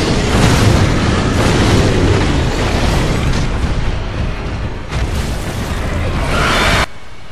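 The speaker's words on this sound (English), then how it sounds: "This slam attack is probably her most dangerous move, and it's a bit of a combo." A heavy slam attack by the Guardian Ape boss in Sekiro: Shadows Die Twice lands as a loud, dense boom with a crashing impact, a short lull, then a second crushing blow that cuts off abruptly.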